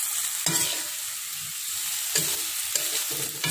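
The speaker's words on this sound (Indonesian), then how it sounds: "Aduk-aduk sampai merata." Shredded tongkol tuna sizzles in a frying pan as a utensil stirs it, with a steady frying hiss and a few sharp scraping strokes. No one speaks.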